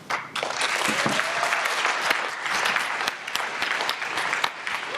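Audience at a SciPy conference lightning talk claps in a dense, continuous burst, with sharp individual claps standing out from the crowd's steady patter throughout.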